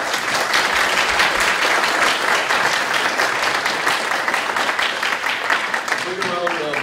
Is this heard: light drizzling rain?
no